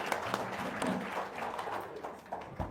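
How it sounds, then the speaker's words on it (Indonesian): Applause and hand clapping from a crowd at a religious gathering, a steady dense patter of many hands at moderate distance, fairly soft and continuous throughout. "Tepuk tangan sekali lagi."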